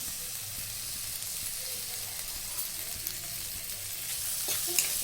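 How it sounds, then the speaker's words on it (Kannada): Ginger, green chilies and tomato fry in a little oil, a steady dense sizzle with light stirring scrapes running evenly throughout and no voices. "ಒಂದು ಸ್ವಲ್ಪ ಎಣ್ಣೆ ಹಾಕಿ ಹುರ್ಕೊಳ್ಳೋಣ."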